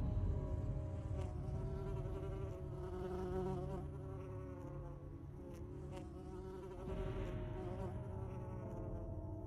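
A glowing bee in The Secret World buzzes steadily and close for the whole stretch, with a dense insect drone over a low game ambience and no talking.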